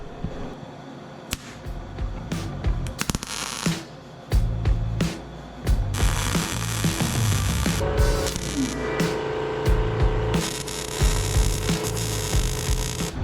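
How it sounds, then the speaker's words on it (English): An angle grinder smooths rough welds on a homemade steel ATV bumper with a new skid plate, grinding loudly and up close in steady bursts with short pauses and clanks between passes. "I'm gonna grind these welds up."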